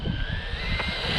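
A Jiusi Race WB12PRO 1/12-scale 3S brushless RC buggy races past, its motor giving a loud, high electric whine that stutters as the speed control cuts out and picks back up, heard up close for a brief moment.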